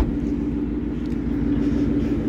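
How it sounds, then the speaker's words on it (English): A 2018 Ford Mustang GT with its 5-liter V8 running nearby, a steady, deep low rumble that holds at an even level throughout the short stretch, with no talk. "It's got that 5-liter V8 power."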